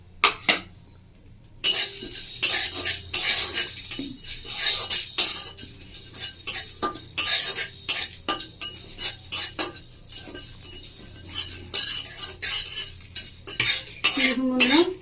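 Dry whole spices roasting in a hot kadai, rapid scraping and clinking of a metal spatula against the pan in an uneven rhythm, close and fairly loud, with a faint dry crackle beneath.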